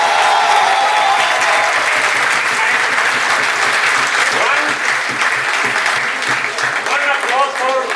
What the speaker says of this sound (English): One big round of applause for the director also.